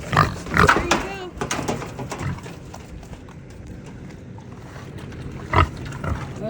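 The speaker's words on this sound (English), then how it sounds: "Those are some happy pigs." Pigs grunt and oink close by as they munch on pumpkin, with choppy, irregular bursts and a louder snort near the end, while a person talks over them.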